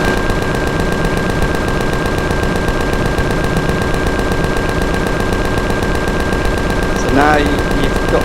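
Continuous rapid-fire ship-mounted gun in the space survival game Empyrion Galactic Survival, a loud, even stream of shots repeating at a fast mechanical rhythm throughout, with a brief rising tone near the end.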